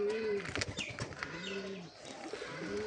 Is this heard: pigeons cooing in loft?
yes